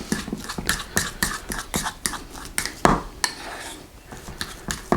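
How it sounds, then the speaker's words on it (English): Sharp repeated clinks of a fork against a bowl while mashing egg yolk filling for deviled eggs, coming in quick irregular taps and scrapes, close and fairly loud, with no voices. "Just use your fork to kind of mash it in."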